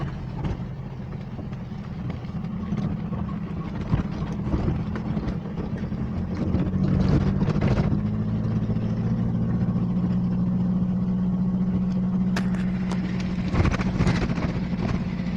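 A Mercedes Vito van driving on a rough, potholed rural road, its engine droning steadily with rattles and jolts from the uneven surface heard from inside the cabin.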